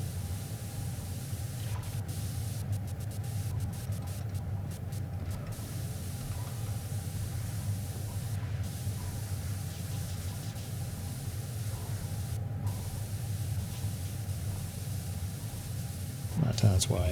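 In the video game PowerWash Simulator, a pressure washer sprays continuously with an even, hissing rush that holds steady for the whole stretch. The spray stays moderately loud under a low background voice.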